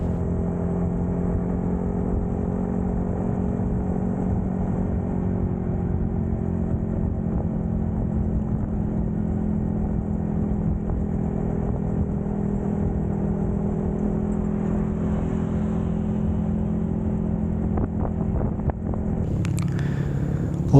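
Heard from inside the rider's AGV K3 SV helmet during a ride at speed, a steady, loud engine drone and wind roar run without a break, with a few faint clicks near the end.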